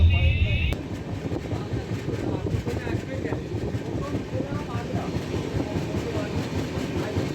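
The 12988 Ajmer–Sealdah superfast express rumbles along the tracks with a steady roar and rhythmic clatter of wheels, heard from inside a carriage.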